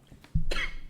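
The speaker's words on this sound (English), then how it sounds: "I'm coughing." A single sharp cough from a man, brief and close, bursting out abruptly after a quiet moment.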